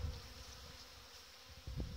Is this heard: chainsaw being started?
no